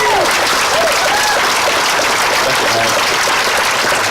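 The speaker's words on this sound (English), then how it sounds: "I'd like you all to join me in a round of applause for Alex Rubio" Loud, sustained outdoor applause from an audience at a mural dedication in New Braunfels, dense steady clapping filling the whole stretch with some crowd noise and a few faint voices underneath.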